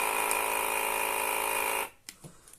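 A small AliExpress electric massager, delivered already charged, hums with a steady high-pitched electric buzz for nearly two seconds, then cuts off, leaving a few faint clicks and handling noises.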